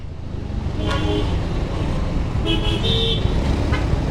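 A jeep's horn toots twice in short bursts amid steady roadway traffic rumble, heard from a delivery rider's vantage on a busy street, with engines droning underneath throughout.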